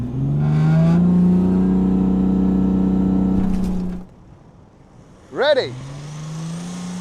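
A BMW 435d sits stationary, then launches hard from a standstill to chase a rolling Honda Civic; loud sustained engine roar for about four seconds, then a quiet gap before a rising, pitch-sweeping rev, with a brief spoken word over it.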